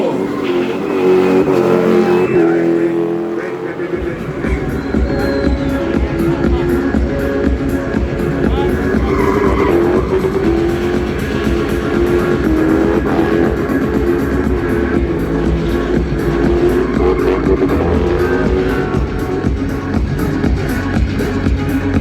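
A car engine revs hard and continuously during a burnout spin at a festival car show, a loud, sustained roar with crowd noise faintly underneath.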